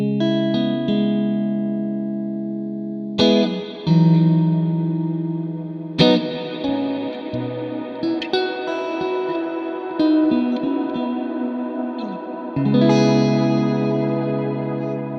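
Loud electric guitar chords ring out with a heavy reverb wash, each strum lingering and decaying before the next, several chords in succession.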